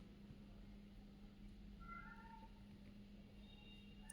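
A female cat meows faintly a few times indoors, soft and distant over a steady low hum, with no voices.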